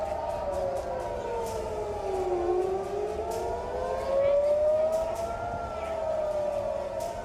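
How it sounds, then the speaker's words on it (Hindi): An air raid war siren wails steadily across Israel after an attack, its pitch rising and falling in long sweeping cycles, loud and continuous with faint clicks and noise underneath. "हमले के ठीक बाद इजराइल में जंग का सायरन बजने लगा।"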